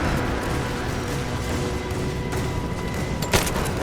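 Rise of the Tomb Raider combat, a steady dense fusillade of gunfire and distant booms runs throughout, with a sharp crack near the end.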